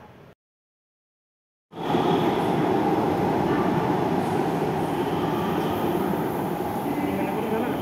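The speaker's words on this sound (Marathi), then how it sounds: "ही काय आली आमची मेट्रो" After a brief silence, a loud continuous rumble and roar of a metro train arriving at a station in Pune fills the space, steady and close, with faint voices underneath.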